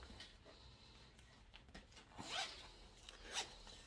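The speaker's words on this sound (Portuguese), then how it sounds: "Quando o meu zíper fecha aqui" A zipper closes on a fabric vaccination-card cover, two short close rasping pulls standing out over quiet background rustling.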